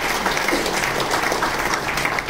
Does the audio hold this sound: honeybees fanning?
no